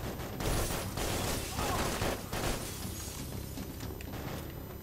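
Rapid gunfire through a wall in the Max Payne 3 video game, a dense burst of overlapping shots and shattering impacts at moderate loudness throughout.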